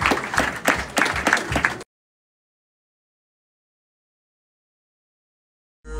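A short burst of clapping from a small group lasts under two seconds, then cuts to silence before a brief noise at the end.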